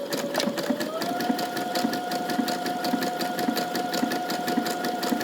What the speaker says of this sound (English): Now come back and stitch the very edge with zigzag stitch number 4 to stop fraying.